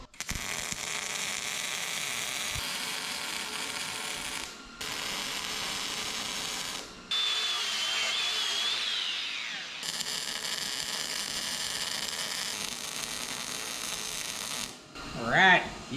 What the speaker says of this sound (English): where I beveled that, I'm just gonna lay a hot weld in there.